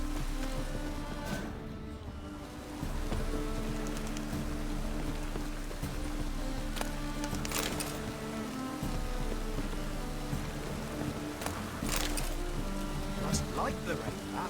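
Steady rain patters continuously over a low hum and faint music, with occasional louder drops or clicks, in The Witcher 3: Wild Hunt.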